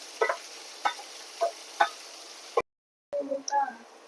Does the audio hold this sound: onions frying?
yes